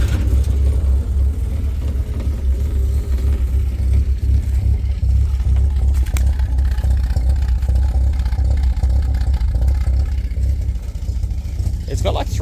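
A carbureted rotary-engine car with a 48mm IDA Weber and a 2-inch exhaust idles with a loud, steady low rumble and engine clatter, close up and continuous, with a voice talking over it.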